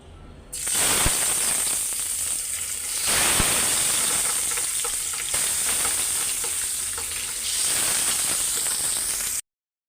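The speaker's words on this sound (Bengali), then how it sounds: "মাছগুলো হলুদ মাখায় নিছি। তো এখন ভাইজা নিব। তেল গরম হয়ে গেছে।" Turmeric-coated fish fries in hot oil with a loud, bright, continuous sizzle and hiss that starts abruptly and swells in waves, close up, with no voices, before cutting off sharply.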